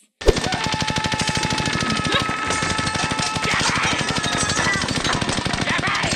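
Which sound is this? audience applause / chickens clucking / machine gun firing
machine gun firing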